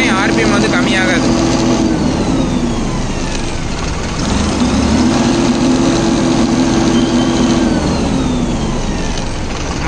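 A Deutz-Fahr Agrolux 70E 4WD CRDi tractor engine running steadily at a set rpm of around 1600, a loud, close, continuous drone with a slight rise and fall in pitch, while someone talks over it.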